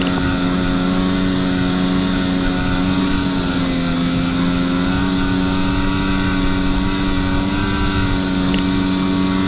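A Ski-Doo Gen 4 snowmobile riding a thin trail in Old Forge, its engine droning steadily and loudly throughout with a constant tonal whine and no pauses or talk.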